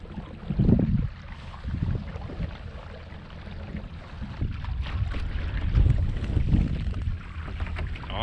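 Kayak cruising on open water under a 27-pound-thrust trolling motor, a steady low motor drone mixed with water wash and buffeting wind noise, surging louder in places, with no talking.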